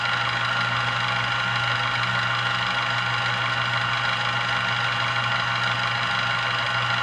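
A machine cutting bits into a handgun runs continuously, a steady dense mid-to-high whirring hum with a constant low drone underneath, even and unbroken throughout with no talking.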